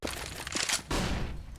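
Rifle gunfire on the Inferno map in a Counter-Strike match, a rapid crackling burst of shots, then a short pause and a second dense volley, mid-distance and fairly loud.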